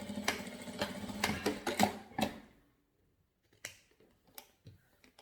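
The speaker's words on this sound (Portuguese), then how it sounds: "vou passar uma costura para fixar" A sewing machine stitches a seam on a dish towel in a quick whirring run that stops abruptly. A few faint clicks and snips follow in near silence.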